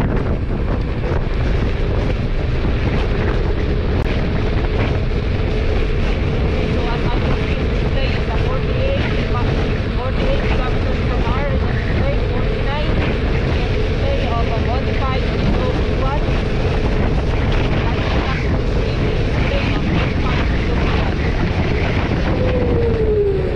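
A modified FIIDO Q1 dual-motor e-bike (60V, 2400W) runs at top speed in gear 1, its motor whine steady and loud beneath heavy continuous wind rush against the microphone, with occasional talk mixed in.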